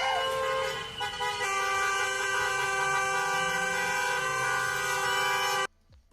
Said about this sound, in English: Chicago residents are now following ICE vehicles, honking horns and shouting